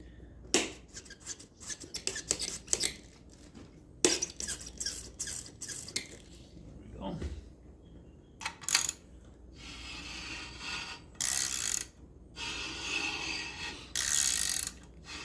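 A ridge reamer scrapes at the cylinder ridge of a small-block Chevy engine block, giving irregular ratcheting clicks and metallic grinding bursts that come and go over quiet shop background.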